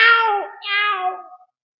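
A human voice imitates a cat, giving two drawn-out, rising-and-falling meows in quick succession, close and clear, then falls silent.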